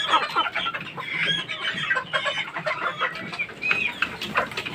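Hens and a rooster clucking steadily around a gamecock stag yard, a dense overlapping chorus of close and farther birds with no talk.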